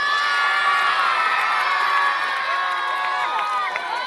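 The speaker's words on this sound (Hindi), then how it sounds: "और जोरदार तालियां।" A crowd at a village cricket tournament cheers and shouts for the man of the match, with loud, continuous whoops and children's voices filling the whole stretch up close.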